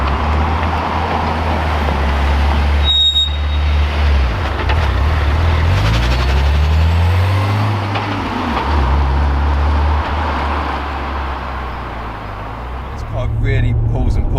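A Vauxhall Lotus Carlton saloon's powerful engine roars loudly as it accelerates through third and fourth gears, the pitch climbing then dropping at each gear change before revving again.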